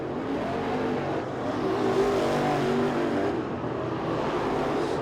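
Dirt-track race cars roar around the track during a night heat race at the Winter Nationals, a steady, dense engine drone that stays loud and continuous throughout with slight swells as the pack passes, and no talking.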